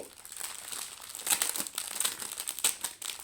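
Small plastic bags of AB diamond painting drills are unwrapped close up, a continuous crinkling and rustling of thin plastic with repeated sharp crackles and no talk.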